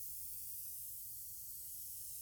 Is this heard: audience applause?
no